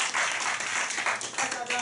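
An audience at a self-introduction meetup gives steady applause to welcome the next speaker, a dense patter of clapping with voices talking over it.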